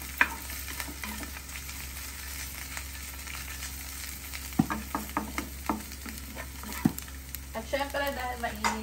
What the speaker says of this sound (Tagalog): gisingin muna natin until mag-caramelize ang ating bawang sibuyas